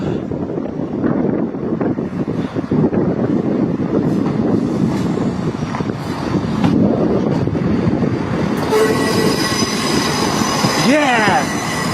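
A Class 170 diesel multiple unit arrives at Dundee station on the East Coast Main Line, rumbling steadily under wind buffeting the microphone before its wheels break into high squeals near the end.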